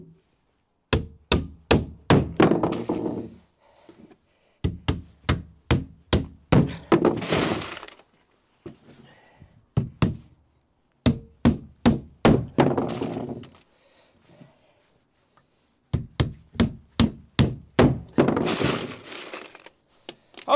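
90mm nails are driven into 45mm timber wall framing for a garden room, with rapid runs of sharp, loud strikes grouped in bursts and separated by short pauses.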